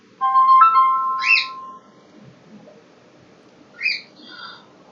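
A phone rings with an incoming call, a loud close electronic chirping tone, then a pause and a second, shorter ring over a low background hum.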